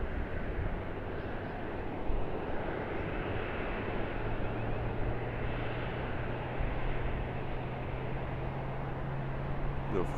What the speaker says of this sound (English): our Singapore Airlines Boeing 777 heading out